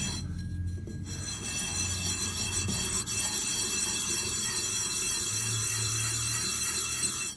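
A metal brake lathe part is rubbed back and forth on sandpaper laid over a flat surface plate, a steady scraping rasp with a few faint clinks, close and unaccompanied by talk.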